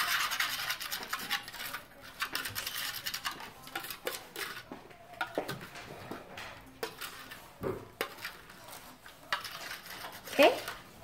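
Slime being mixed with a pinch of baking soda in a bowl, soft repeated rubbing and scraping with light clinks of a utensil, fairly quiet and close.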